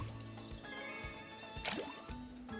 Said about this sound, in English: Let me just gather water.